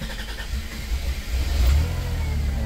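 A 1990 Dodge Grand Caravan LE's six-cylinder engine turns over and catches, then runs with a low, close rumble that swells briefly as it revs before settling to a steady idle.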